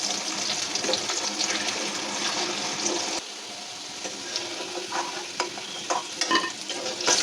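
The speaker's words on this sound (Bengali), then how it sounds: "প্রথমে আমরা আলুগুলো ভেজে উঠাবো।" Cut potatoes fry in hot oil in a home kitchen pan for chicken kosha, a steady close sizzle broken by scraping stirs and clatters that grow busier toward the end.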